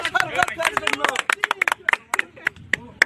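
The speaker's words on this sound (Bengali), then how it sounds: "সবাই সবাই একটা জোরে করতালি হবে" A group of friends clapping outdoors on a trip to the Shapla lake at Satla, Barishal: many quick, sharp, uneven claps overlapping, with voices mixed in.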